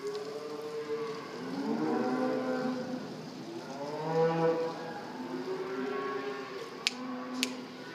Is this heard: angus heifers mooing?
yes